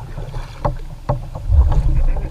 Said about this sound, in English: Taking 45 minutes of straight paddling to get here, but I finally made it.